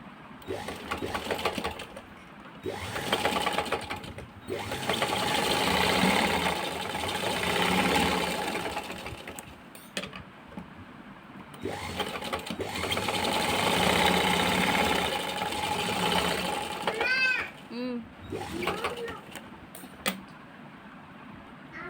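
Domestic sewing machine stitching a handmade cloth bag, running in several bursts of fast whirring chatter separated by short pauses, close and moderately loud.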